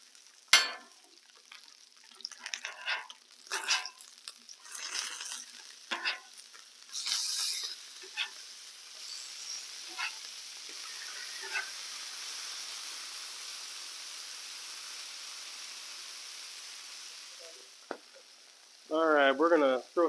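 Smash burgers seasoned with Doritos sizzle steadily on a Blackstone griddle, a continuous frying hiss with scattered scraping and clattering early on, then a short burst of close sound near the end.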